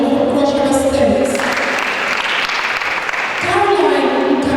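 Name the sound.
audience applause at opening ceremony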